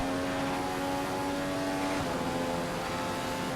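Race car engine in F1 2015 rising steadily in pitch as it accelerates out of a corner, a loud continuous high whine with a slight shift partway through, no talk.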